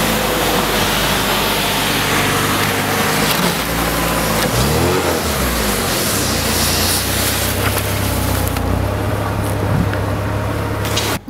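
A VAZ 2107 Lada on summer slick tyres drives in, with loud, continuous engine and road rumble close by and a brief swelling sweep partway through.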